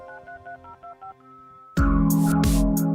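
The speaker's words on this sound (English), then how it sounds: "would play that sound to the modem" A rapid series of short telephone dialing tones, then a sudden loud burst of harsh modem screeching and hissing noise, from a DreamPi dial-up setup for a Dreamcast console.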